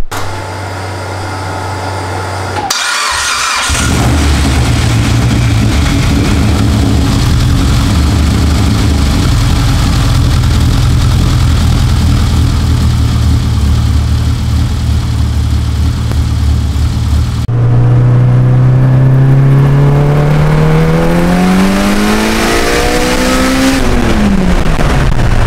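An 800whp Mitsubishi Evo 8 engine cranks and fires, settles into a loud, steady rumbling idle, then revs up and falls back in a sweeping rise and drop near the end.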